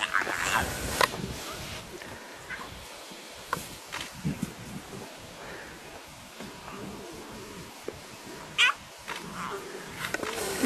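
Lion cubs in a litter of eight call with high, cat-like mews beside their mother, several brief cries scattered through while people talk quietly nearby.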